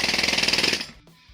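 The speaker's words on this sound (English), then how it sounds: "Woodpecker and a jackhammer are doing the same thing, essentially" Jackhammer pounding in a rapid, steady rattle of regular hits for just under a second, loud and close, then cutting off into near silence.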